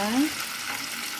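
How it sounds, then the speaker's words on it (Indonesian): Water splashes into a pan of spices already sizzling for an Indonesian tempeh stew (semur tempe), giving a short hissing burst up close that fades into a steady simmering fry. "saya masukkan air secukupnya aja"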